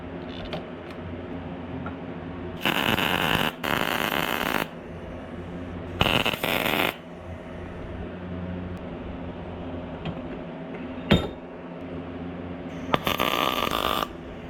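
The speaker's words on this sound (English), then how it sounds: "weld it up something like this." Bursts of welding on a steel pipe being joined to a TugBuggy frame come as several short, loud, crackling runs of a second or two, each followed by quiet shop background, with no one talking.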